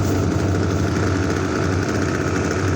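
A boat's engine runs steadily on a dam reservoir. It makes a loud, even motor drone with no breaks and no talk over it.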